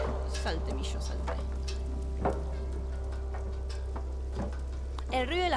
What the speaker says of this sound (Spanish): el ruido de las patitas es épico